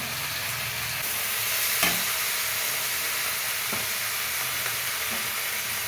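Chillies soaked in vinegar hit a hot pan and are stirred, giving a steady loud sizzle with scraping stir strokes and a brief hissing burst near the start, continuing without speech.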